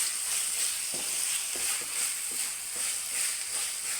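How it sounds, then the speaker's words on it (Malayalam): Curry leaves fry in hot oil for a Kerala-style egg curry, a bright continuous sizzle with light, regular scraping taps as a spoon keeps stirring the pan. "അല്പം കരിയാപ്പില ഇടാം."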